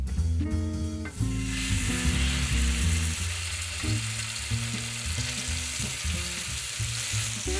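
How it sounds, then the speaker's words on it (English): Pork searing in an oiled skillet gives a steady, loud sizzle throughout, with a burst of crackling as the meat hits the pan and a low hum of tonal background underneath. "To cook my pork, I'm first going to sear it."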